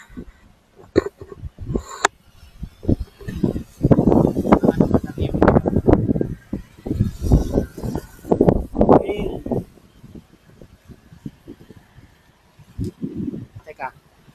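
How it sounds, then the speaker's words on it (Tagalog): Gusty wind buffets the microphone in low rumbling bursts, mixed with rustling and someone talking over it. "Medyo malakas yung hangin."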